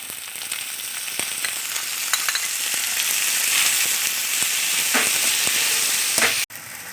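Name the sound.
tomatoes sautéing in pan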